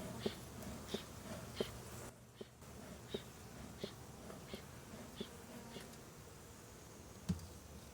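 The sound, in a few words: honey bees buzzing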